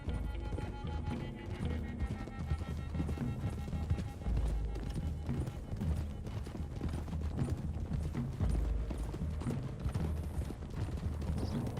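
Horses gallop in Red Dead Redemption 2, a steady clatter of hooves from several riders under a continuous outdoor ambience and faint music.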